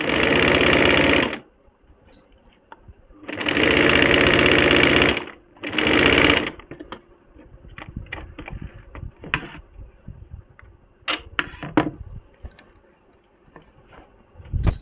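Sewing machine stitching a half-inch seam along the open side hems of a Nyra cut kurti, running in three loud bursts with pauses, then quieter fabric handling and clicks.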